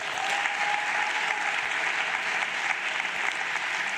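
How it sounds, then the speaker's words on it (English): An audience at a matric results announcement applauds top achievers with a dense, continuous wash of clapping that holds at an even, loud level throughout. "Another round of applause, please."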